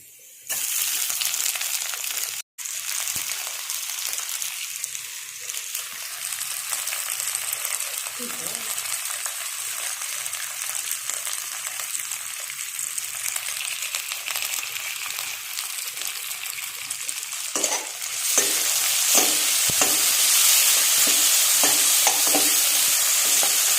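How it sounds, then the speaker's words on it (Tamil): Onions and tomatoes sizzle steadily in a pan for prawn gravy, a continuous frying hiss with occasional stirring scrapes and a sharp click, growing louder toward the end. "நல்லா வெங்காயம் நல்லா இப்போ வதங்கிடுச்சிங்கன்னா இப்போ நம்ம தக்காளி ஆட் பண்ணிடலாம்."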